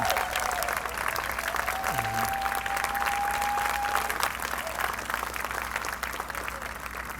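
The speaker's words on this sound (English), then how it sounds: "please give them all a big round of applause" A large audience at a sheriff's speech event gives a sustained round of applause, a steady crowd-wide clapping wash that holds for several seconds at moderate distance, with a faint tone briefly sounding over it.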